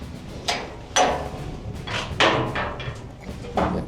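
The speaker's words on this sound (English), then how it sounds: "Just close the door." A door closing at the entrance to an underground World War I subway tunnel at Vimy, heard as several sharp knocks and clunks spaced about half a second apart in an echoey space.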